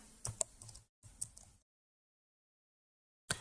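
Keystrokes on a computer keyboard in a quiet room, two short bursts of several clicks each followed by silence, then one final tap, with no talking.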